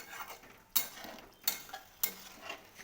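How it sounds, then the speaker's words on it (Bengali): A utensil stirring katla fish curry in radhuni masala in a pan, three sharp scraping clinks against the metal at roughly even intervals, with soft bubbling and shuffling between them. "তাই খুব ভালো করে নাড়াচাড়া করে নিয়ে আবারও কিছুক্ষণ এটাকে ফুটিয়ে নিতে হবে"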